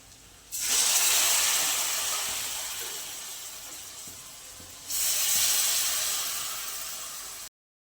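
Cooked chicken dropped into a hot pan for a simple chicken curry sizzles in two loud hissing bursts, each flaring up sharply and then slowly fading, with no talking.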